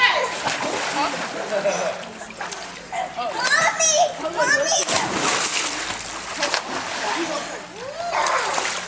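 A child jumps into a pool with a splash amid lively sloshing water, while children's high excited voices and an adult's voice chatter throughout.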